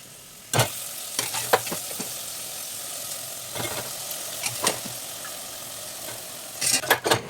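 Chillies tipped into hot oil for a soya chunk (meal maker) curry, giving a steady frying sizzle with scattered scraping stir strokes from a spoon, loud bursts near the start and end, no talk.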